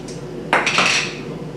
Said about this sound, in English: we're going to just mix that up with our spatula